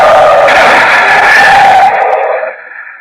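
A car skids hard in an old-time radio drama, a loud, high screech of tires lasting about two seconds before cutting off and fading to quiet.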